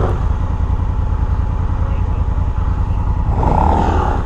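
Honda Africa Twin adventure motorcycle riding through snow, its engine a loud continuous rumble with a slight rise in revs near the end.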